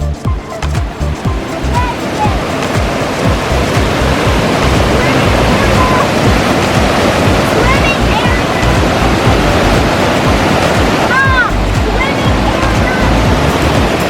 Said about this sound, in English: Got our own big waterfall over here.